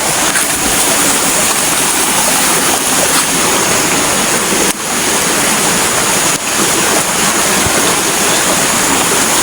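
A small river rushes loudly and steadily, its broad, unbroken flowing-water roar filling the whole stretch with no talk over it.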